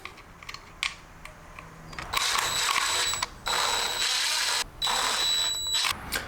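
A ratchet tightens T30 bolts on a BMW E46 window regulator, with sustained clicking that keeps breaking off and starting again over several seconds.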